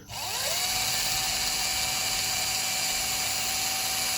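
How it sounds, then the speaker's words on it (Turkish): A small power drill with a 2 mm bit spins up and bores slowly into the front of a bağlama bridge, a steady high-pitched whine holding loud and close throughout. "Kristalın ucunu dışarı çıkartmak için 2 milimlik matkap ucuyla eşiğimizin ön tarafından bir delik açacağız arkadaşlar."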